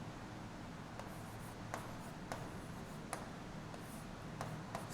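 Chalk or marker writing an example on a classroom board during a Hindi grammar lesson, heard as a series of faint, sharp ticks and short scrapes spaced irregularly over steady low background hum.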